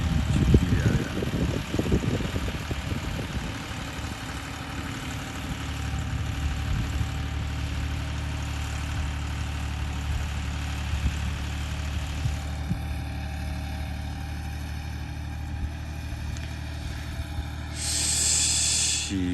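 Massey Ferguson 260 tractor engine running under load in farm fields, a steady low diesel rumble with hissing and a rough rattle near the start.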